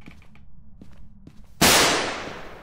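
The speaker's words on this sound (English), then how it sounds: "all I heard was a gunshot" In a video game, a few soft clicks come first, then a single loud, sharp gunshot cracks out and its echo fades slowly.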